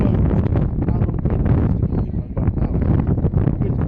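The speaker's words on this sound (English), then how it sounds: "It's bloody windy here, frankly." Heavy wind at an exposed Newcastle racecourse buffeting the microphone, a continuous loud low roar with gusty surges throughout and no other sounds standing out.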